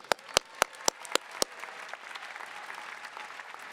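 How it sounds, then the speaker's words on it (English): A few sharp, loud individual claps ring out at a university graduation hooding and diploma ceremony, then settle into a softer, steady wash of crowd applause. "give her a round of applause"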